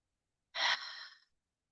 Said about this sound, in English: Deep, deep inhale.